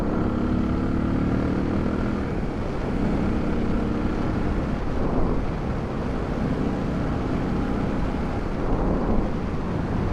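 A Suzuki DR650 motorcycle is ridden along a road near a lake. Its steady engine drone blends with heavy wind buffeting on the microphone, continuous and fairly loud, with no voices.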